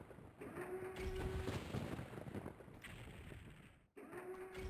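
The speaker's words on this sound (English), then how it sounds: "I can hear something shooting at us." Enemy gunfire from Hell Knights and Barons in the video game Doom 64, a loud, dense barrage of blasts and rumbling impacts running almost continuously, with a brief cutoff near the end before firing resumes.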